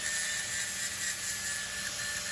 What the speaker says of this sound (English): Gonna get the flap disc here and just kind of clean that up.